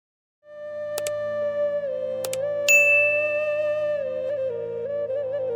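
A bright notification bell rings out in a quick series of dings, each with a shimmering tail that lingers over a sustained chime tone, clear and close with no talking.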